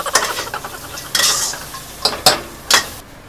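Pork belly stir-fried with chili and salt in a wok, a few sharp scrapes and clinks of a utensil against the pan over a low sizzle, in short separate bursts.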